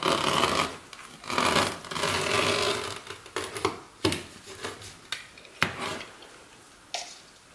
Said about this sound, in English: I just use the rotary cutter because it just cuts smoother